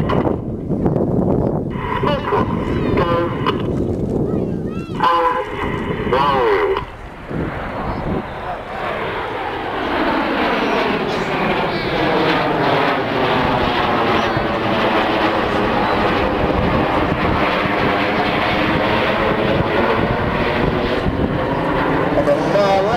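Red Arrows display jets performing the shuttle roll at an air show, a loud roaring jet-engine sweep building and sustaining with heavy wind buffeting on the microphone.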